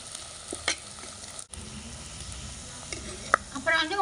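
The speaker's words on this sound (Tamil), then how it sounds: "நல்லா வதங்கணும் வதங்க விட்டு காமிக்கிறேன்" Onions and curry leaves sautéing in a pan for a snail gravy, a close steady sizzle broken by a few spoon scrapes and taps and one brief dropout, with no talk.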